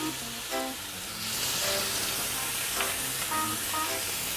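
Mei Cai preserved vegetables sizzle in a pan as dark and light soy sauce go in, a soft steady hiss rising partway through with a few faint clinks of stirring.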